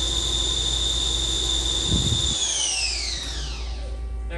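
2007 HAAS SL-20 CNC lathe turning center with its spindle running at 2500 RPM, a loud steady high-pitched whine over a low drone, the whine sliding down in pitch near the end as the spindle slows.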